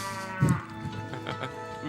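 A cow in the video game Diablo gives a single short low moo near the start, over a steady bed of game ambience and music.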